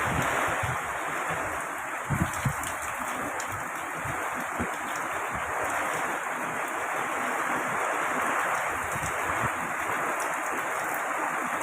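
Strong wind roars and gusts through grass across an open area in Silang, Cavite, a dense continuous rush with occasional buffeting thumps against the microphone.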